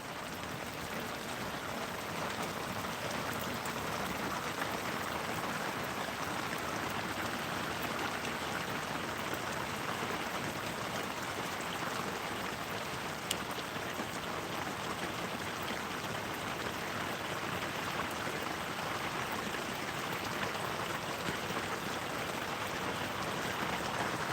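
Steady rain falling outdoors in a constant, even hiss that never lets up, loud and close, with no speech over it.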